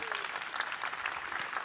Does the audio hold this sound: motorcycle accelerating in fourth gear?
no